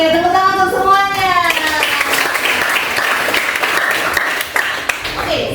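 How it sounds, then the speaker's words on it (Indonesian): A classroom of children claps for everyone, a burst of brisk applause that runs under a speaking voice and then thins out toward the end. "Oke, tepuk tangan untuk semuanya."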